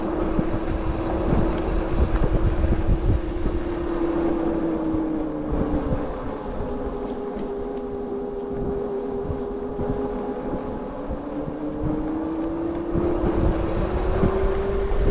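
A Rad Power Bikes RadWagon 5 electric cargo bike climbs a steep section, its motor giving a steady, fairly quiet hum that rises and dips in pitch, with wind rushing across the microphone throughout.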